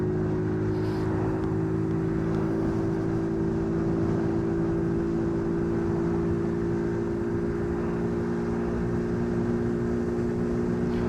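Small 50cc geared moped engine holding a steady high-pitched drone at cruising speed in fourth gear, with wind noise, continuous and fairly close.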